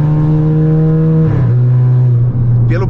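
A remapped Volkswagen Jetta 1.4 TSI engine revs loudly and up close with a steady, strained tone, then drops sharply in pitch and settles into a lower, throaty roar for the rest of the moment.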